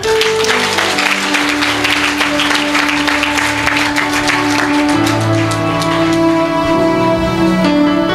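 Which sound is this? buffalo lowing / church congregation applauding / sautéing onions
church congregation applauding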